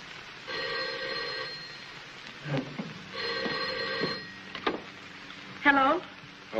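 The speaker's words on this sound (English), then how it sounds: "Miss Cunningham, will you get Miss Terry on the phone, please?" A 1940s telephone rings in two long bursts of bright, trilling bell tone separated by a short pause, with a voice speaking in between, in the 1944 film Career Girl.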